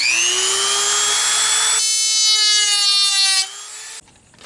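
A high-pitched rotary tool whines steadily as it trims plastic trim in a Ford Sport Trac dashboard, its pitch shifting under load before cutting off abruptly.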